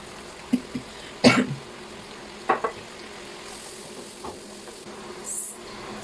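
Soy sauce poured into catfish stir-frying in a pan with papaya, Thai Isan-style spicy stir-fry; a few brief splashy sizzle bursts and clatters over a low steady frying hiss, no talk.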